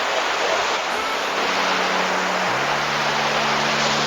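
River water rushes steadily over the terraced rock channel at Kapalo Banda in Taram, West Sumatra, a dense unbroken roar filling the whole stretch, with a low steady hum running faintly beneath.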